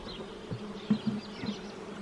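Honeybees buzz around hives as a beekeeper inspects the colonies. The soft, continuous buzz is punctuated by a few individual bees passing close, and no one speaks.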